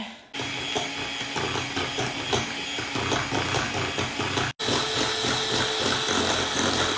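An electric hand mixer whips Nestle cream with a steady, close mechanical whir and rattling texture that runs almost the whole time, cutting out for a split second midway before resuming.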